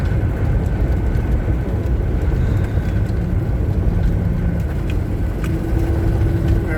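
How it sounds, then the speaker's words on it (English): Computer-controlled car engine running on propane, a steady low droning rumble held close and even, with a faint rising tone as the transmission shifts near the end. "Transmission shifting."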